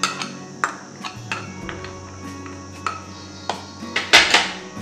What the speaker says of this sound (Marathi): येथे मी एक पसरट भांडे घेतले आहे, त्यात आता आपण दही टाकून घेऊ।